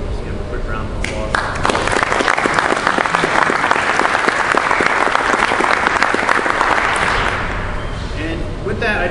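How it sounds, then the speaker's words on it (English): An audience at a regional annual meeting breaks into loud, dense applause that swells and holds for several seconds before tapering off, close and filling the room. "we'll just give them a quick round of applause"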